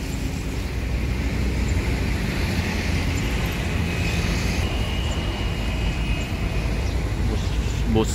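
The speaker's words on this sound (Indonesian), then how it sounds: "Bus, mobil-mobil besar banyak melintas di jalan lintas timur ini" Buses and large trucks rumble past on the Jalan Lintas Timur highway in Sumatra, a continuous loud roar of engines and tyres with no break across the stretch.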